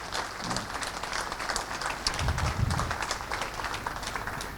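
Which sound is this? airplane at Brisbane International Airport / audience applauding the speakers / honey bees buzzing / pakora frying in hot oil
audience applauding the speakers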